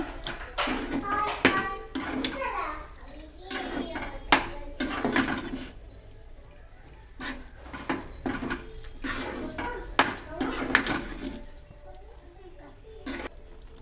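A spoon stirs toor dal and banana stem in a boiling steel pot, with repeated clinks and scrapes against the metal, irregular and close, under intermittent talk.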